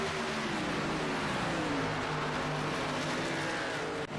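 Race car engines roar at Talladega Superspeedway in a sim racing league event, a dense, continuous drone of several cars with pitch slowly sliding down as they pass.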